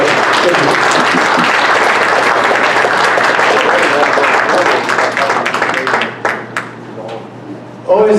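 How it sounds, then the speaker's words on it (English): An audience claps in sustained, dense applause at a Tea Party event after a speech, steady and loud before thinning into scattered claps toward the end. "Good round of applause."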